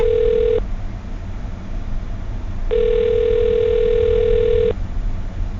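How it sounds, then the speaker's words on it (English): A loud telephone tone sounds briefly, stops, then returns as a steady two-second tone over a low background hum. "I'm going to dial her phone number right now"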